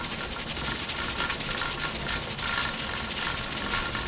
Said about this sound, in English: we'll see it's releasing the steam, releasing that pressure